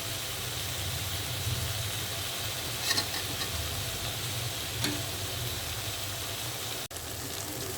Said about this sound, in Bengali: পটল আর আলু কষাই নিচ্ছি।